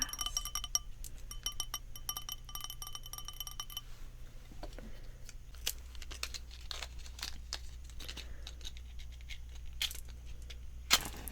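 A blue glass candle holder holding a purple candle gives light clinks and rattles, with irregular faint taps over a quiet low hum and no talking.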